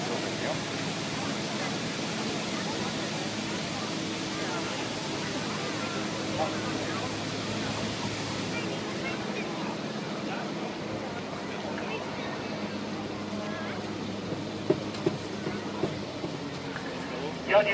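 Police water cannon firing a full solid jet at 16 bar during a police open day in Dortmund, a loud, continuous roaring rush of water that holds steady throughout, with crowd noise faintly behind.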